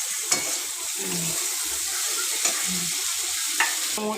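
Chopped tomatoes frying in hot oil for a crab curry give a steady close sizzle, broken by a few sharp stirring scrapes and clinks.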